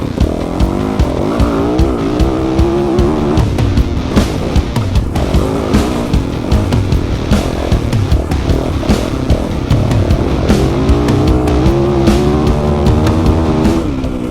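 Yamaha YZ450FX four-stroke dirt bike ridden through sand, its engine roaring loud and steady with rising and falling revs throughout, close up with no talking.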